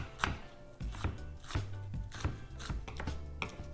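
A knife chops green onion on a cutting board in a home kitchen, about eight soft, close, rhythmic thuds spaced evenly with no talk.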